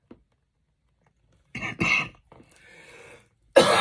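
A couple of rough coughs or throat-clears break the quiet, followed by a faint breathy rasp and another sharp cough at the end.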